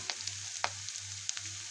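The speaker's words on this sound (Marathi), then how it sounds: "त्यात 1 चम्मच तूप टाकून घेतलं कढईमध्ये। नंतर 2 कांदे चिरलेले उभे ते टाकून घेतलं" Two vertically sliced onions frying with cumin in a spoonful of ghee in a kadai, a soft continuous sizzle with occasional crackles and a low steady hum underneath.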